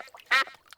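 A cartoon duck quacks once, loud and close, in a duck pond beside a landed paper aeroplane, with faint softer sounds before and after.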